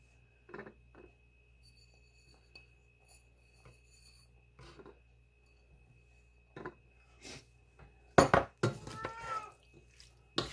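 A cat meows a few times late in a quiet kitchen scene, near and fairly loud in short bursts, with light scraping and dish sounds earlier.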